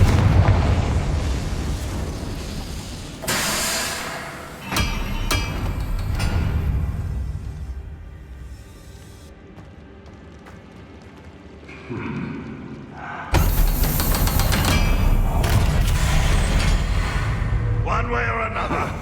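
Confringo fire spell explosions in Hogwarts Legacy, with loud booming blasts and crackling bursts that rise and fade in several waves, alongside game sound and talk.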